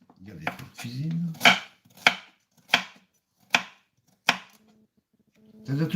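Carrots are cut with a kitchen knife, making five or six crisp, evenly spaced chops on a board, close up, with brief voices just before and after.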